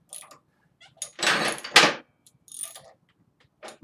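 Allen bolts being run in on a Harley Dyna engine mount: short bursts of ratcheting and metallic mechanism noise, a few louder scraping strokes separated by quiet pauses, close up.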